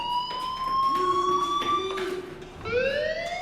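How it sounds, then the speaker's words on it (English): Fire alarm in the game Life is Strange: a loud, steady electronic tone with rising and falling pitch sweeps, sounding continuously throughout with no talking. "do you hear that fire alarm?"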